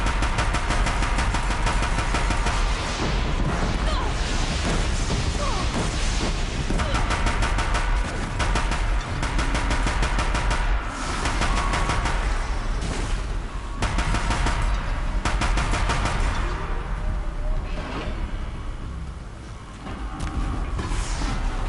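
Rapid machine turret gunfire from a robotic machine in the video game Horizon Zero Dawn, a loud, dense, sustained rattle of shots mixed with engine-like mechanical noise, continuing through the whole stretch with only brief dips.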